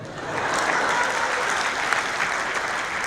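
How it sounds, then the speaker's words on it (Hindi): A crowd at a comedic Haryanvi poetry show in Dubai claps in a sustained, dense wave that swells slightly after the start and stays loud and steady throughout. "आप सबको तालियां बजानी ही होंगी"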